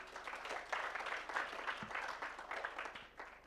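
Audience applause for a panel at a climate summit, a steady wash of clapping that fills the room throughout, no voices over it.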